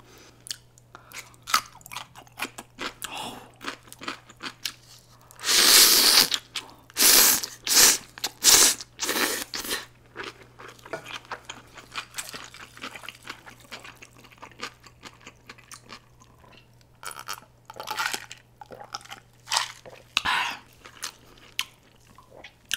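Crunchy bites and steady chewing of a homemade gorgonzola pizza on a tortilla base, eaten with honey and a giant honeycomb. Close, wet mastication comes in a dense burst midway, with scattered softer bites around it and no talking.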